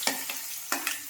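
Garlic, onion and green chilies sautéing in a pan for tomato thokku, with short sizzling bursts as the mixture is stirred, close and fairly loud with no talking.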